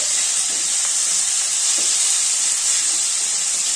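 Broad beans fry in hot oil in a pan, giving off a continuous bright, hissing sizzle that stays loud and even throughout, with faint clinks underneath.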